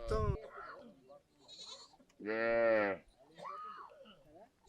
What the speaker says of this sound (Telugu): ఆవులు అన్నీ ఒక నాలుగు వందల ఆవులు